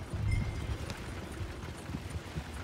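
Horse hooves clip-clop steadily in Red Dead Redemption 2 near a saloon, a close, continuous trotting rhythm over low background rumble.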